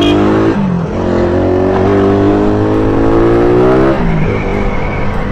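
Suzuki Raider 150 motorcycle with an upgraded throttle, throttle body and cable, revving hard and close: a loud rising engine whine that climbs, dips briefly, rises again and drops, with no talk.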